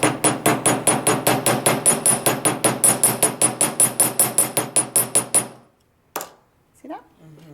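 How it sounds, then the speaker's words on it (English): A chasing hammer flattening the end of a wire for a riveted wire bangle bracelet, a steady run of about two dozen sharp, close metallic taps, then a pause and a couple of isolated knocks and handling sounds. "I'm going to use my chasing hammer, and I'm going to concentrate the middle of the hammer right there on the end."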